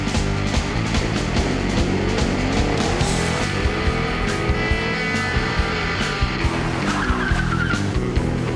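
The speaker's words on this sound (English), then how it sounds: "Run up your engine!" A loud, continuous car engine roaring with tire squeal layered in, sustained and dense throughout, with no voices.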